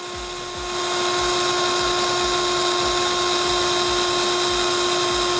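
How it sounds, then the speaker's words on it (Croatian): A power drill spins a fidget spinner at high speed, giving a loud, steady whine with strong sustained tones that starts softer and holds at full volume throughout, with no talking. "On će da ga ubrzava dok ne dostigne istu brzinu kao i lager, kao i bušilica."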